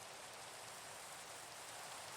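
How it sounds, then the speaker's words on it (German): Steady Minecraft rain hisses softly and evenly, a faint continuous patter with no voices or other sounds. "Es regnet zwar immer noch"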